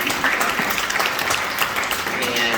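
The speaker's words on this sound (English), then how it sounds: "applause" Audience applause fills a gathering of a Hellenic medical society in New York, a steady dense patter of many hands clapping throughout, loud and close with no voices standing out.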